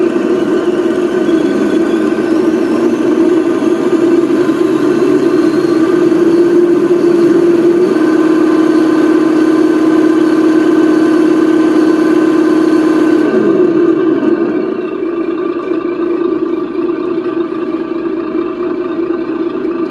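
A steady engine idle drones loud and close throughout, holding an even pitch before easing slightly lower toward the end, with no voices.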